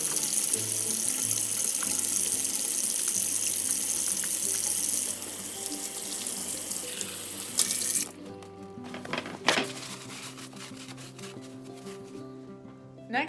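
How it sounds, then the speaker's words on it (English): Kitchen tap running strongly as hands are washed, a steady gush of water that shifts in tone, then stops around the midpoint, leaving clinks and light splashes. "First, we have to wash our hands to make sure that they are nice and clean."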